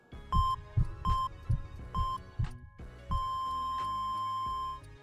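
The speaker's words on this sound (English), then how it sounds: "Heartbeat." Heartbeat finisher effect from the Roblox Rivals game: a series of deep, throbbing heartbeat thumps paired with bright electronic beeps like a monitor, ending in a long, sustained flatline tone, with no speech.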